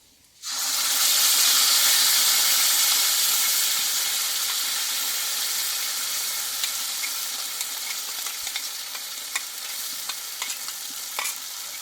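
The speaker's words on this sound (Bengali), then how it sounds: "দেখো মশলাটাকে ভালোভাবে কষিয়ে নেব কিছুক্ষণের জন্য" A spice paste of raw tomato and ginger hits hot mustard oil with a sudden loud sizzle. The hiss stays strong, eases slowly, and is dotted with small pops and stirring clicks.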